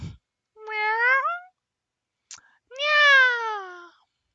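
A person imitates a cat with two drawn-out, rising-then-falling meows separated by a pause, close and clear, the human voice mimicking a cat's cry.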